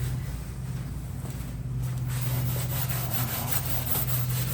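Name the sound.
scuffing a metal interior panel with red Scotch-Brite pad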